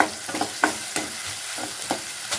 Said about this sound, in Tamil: பிரியாணி இலை பட்டை வெங்காயம் இஞ்சி பூண்டு அரைச்சி வச்ச பேஸ்ட்டு பச்சை வாச பொருளும் நல்லா வணக்கிக்கலாம்